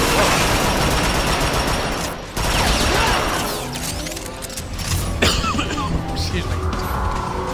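Shotgun gunfire in the video game Transformers Fall of Cybertron: loud bursts of shots and crashing impacts amid chaotic combat noise, with a player talking over the fighting.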